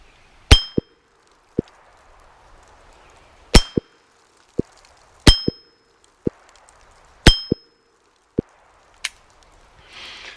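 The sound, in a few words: bullets hitting steel target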